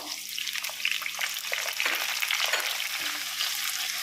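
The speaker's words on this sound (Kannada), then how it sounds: "ಇದಿಷ್ಟನ್ನು 2 ಮಿನಿಟ್ಸು ಚೆನ್ನಾಗಿ ಎಣ್ಣೆಯಲ್ಲಿ ಫ್ರೈ ಮಾಡ್ಕೊಳ್ಳೋಣ" Chopped onions and tomatoes fry in oil with pepper while chana dal kurma is cooked. A dense, steady sizzle with wet crackling runs continuously and close throughout.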